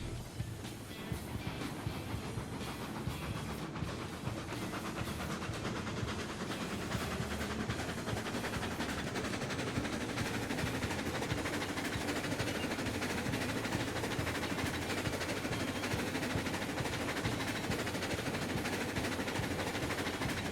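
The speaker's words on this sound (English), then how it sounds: "Gonna make a stop by the yard here and pick up some coal for the locomotive on the way." A coal-fired steam locomotive running in the game Railroads Online, a dense continuous rumble and rattle of wheels and rolling stock that holds steady and loud throughout.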